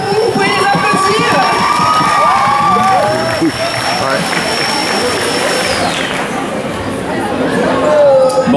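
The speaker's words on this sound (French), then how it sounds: "vous pouvez les applaudir." A large crowd, children's shouting mixed in, cheers and applauds winners of a cosplay contest at the Winter Geek Festival 2023. A steady, loud roar of voices and clapping fills the whole stretch, with scattered excited shouts rising above it.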